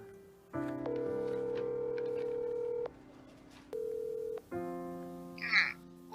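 Telephone tones sound loud and close: a steady dial tone, a break, a short tone, then more steady tone, with a brief rustle near the end and no speech.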